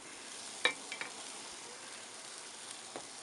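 Pork steaks sizzle on a grill with a faint, even hiss and a few small pops and crackles scattered through.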